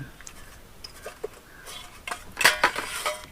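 Metal pots and dishes clatter and clink as they are carried, a series of light irregular knocks that build to a louder jangle near the end, in a quiet setting.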